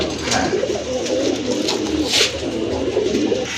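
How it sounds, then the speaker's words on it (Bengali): Large Bombay pigeons coo continuously at close range in a pigeon-selling setup, with low, throaty calls rolling through the whole stretch and no talking. "আরেক জোড়া কবুতর দেখতে পাচ্ছেন বোম্বাই কবুতর বিগ সাইজের কবুতর"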